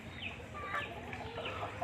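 Several chickens clucking in a flooded backyard after heavy overnight rain, short squawky calls repeating close by over steady wet background noise.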